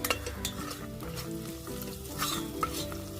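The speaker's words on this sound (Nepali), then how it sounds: "गोल्डन ब्राउन नहुन्जेल मजाले भुट्नुपर्छ प्याजलाई चाहिँ" Onions frying in a pan with salt until golden brown, a continuous soft sizzle, plus occasional stirring scrapes and light clinks of a utensil against metal.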